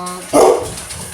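Big Labrador dog letting out a single short, loud bark close by over a steady low hum.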